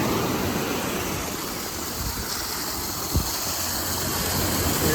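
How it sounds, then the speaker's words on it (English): Steady rushing water pours continuously nearby from a small runoff waterfall by a beach on Isla Colón, Panama, a broad hiss of falling runoff with no voices and a faint low thump midway. "Little runoff waterfall."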